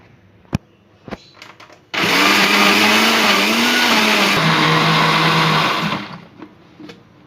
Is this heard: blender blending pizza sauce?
yes